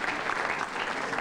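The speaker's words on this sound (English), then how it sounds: "Have an applause for Island House Restaurant." Brief burst of steady audience applause at a stand-up comedy show, a continuous wash of many hands clapping at moderate volume throughout.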